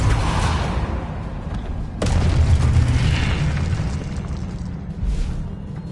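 Spell blasts cast in the video game Hogwarts Legacy, a steady stream of loud booming magical bursts with a sharp, heavy impact partway through and a continuous rumble underneath.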